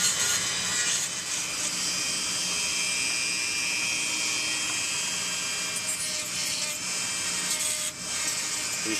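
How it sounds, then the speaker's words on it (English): A continuous high-pitched whine of a small rotary drill smoothing down a dental cast, grinding steadily, close and loud, with slight changes in pitch as it works. "Next, we take a drill and smooth this down."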